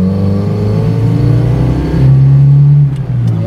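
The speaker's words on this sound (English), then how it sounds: "Say it's the most refined 4-cylinder out there, you definitely hear it" A Jeep Cherokee XJ with a 4-cylinder engine runs close by, a loud humming drone whose pitch rises briefly midway and then eases back down.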